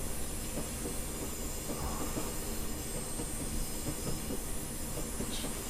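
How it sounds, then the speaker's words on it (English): A locomotive runs on the West Highland Line in Train Simulator 2021, giving a steady rumbling roll with faint rhythmic wheel clicks and a thin squeal, continuous and moderately quiet. "It's literally just me and the locomotive."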